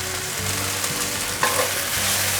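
Potatoes, red and yellow sweet peppers and cucumber are stir-fried in a hot pan, with a dense, continuous sizzle and a few faint scraping stir sounds close by.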